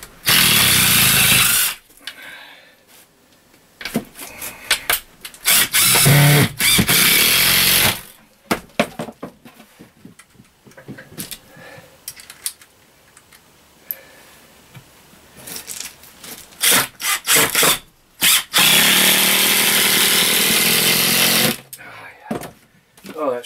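A power driver screws into a tiny house bathroom wall in several loud, close whirring bursts separated by pauses, with a person talking in between.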